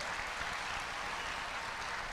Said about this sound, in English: I guess that was what that big applause was